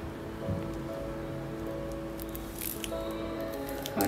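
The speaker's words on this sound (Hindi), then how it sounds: "एक चॉको वेफर लेंगे और इसके अंदर हम डालेंगे इस तरह से" Chocolate filling is squeezed from a piping cone into crisp chocolate wafer rolls, giving soft, close squishing and faint crackles against a quiet background, with a few sharper clicks near the end.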